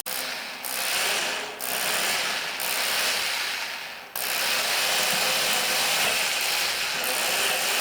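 A power drill bores 6.5 mm holes for mast cleats in a hollow, wooden-look mast. It makes a steady, loud whirring grind with a few brief dips in pitch as the bit bites, and no talking.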